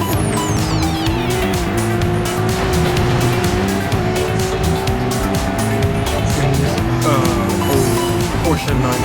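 A Porsche 911 races on dirt in Forza Horizon 5, the engine roaring loud and continuous with tyres squealing and skidding throughout, while a person talks over the game sound.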